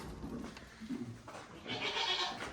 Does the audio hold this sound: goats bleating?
yes